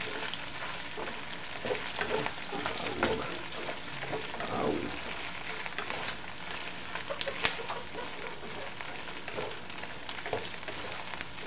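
Ingredients brown in a frying pan with a lively, steady sizzle, punctuated by stirring scrapes and occasional louder spatters, heard up close.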